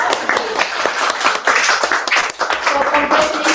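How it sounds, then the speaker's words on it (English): Audience applause at a junior stage session, dense close clapping from many hands that stays loud throughout, with speech mixed in. "let's give a big round of applause."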